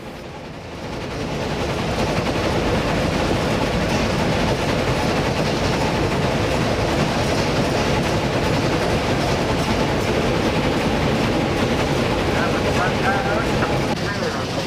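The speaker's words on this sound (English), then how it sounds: "The engine speedometer indicates the train is gradually accelerating up the hill." A loud, steady rumbling of a steam train accelerating uphill, continuous and building slightly, with a dense mechanical roar filling the whole stretch.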